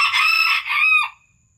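A backyard rooster crows once, loud and close, a strained two-part call that breaks off abruptly into near silence.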